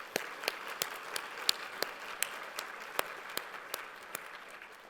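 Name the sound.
applause at an awards party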